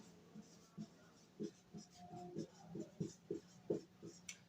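Chalk taps and scrapes across a classroom board during a Hindi-language physics lesson on wave optics, a series of short, irregular strokes close by at low volume, with no talk over them.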